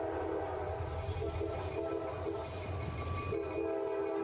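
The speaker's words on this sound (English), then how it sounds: "Ooh, nice little horn salute." A Norfolk Southern locomotive sounds a horn salute, sustained loud chorded horn tones over rumbling train and rail noise, with a slight break and change near the end, no talk.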